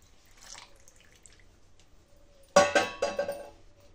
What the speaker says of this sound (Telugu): ఇలా షుగర్ సిరప్ని అంతా వేసుకోవాలండి